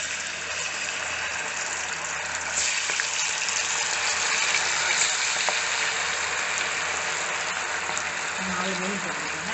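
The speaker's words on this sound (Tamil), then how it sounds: "இப்போ நம்ம மீன் எடுத்து ஒன்றா போட போகிறோம்." Pieces of Kaala (Indian salmon) fish frying in hot oil, a constant loud sizzle and hiss, close by, with a brief low sound near the end.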